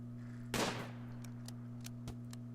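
Gunshots in the colony game Rimworld: one sharp, loud crack followed by a few faint, scattered pops over a steady low electrical hum.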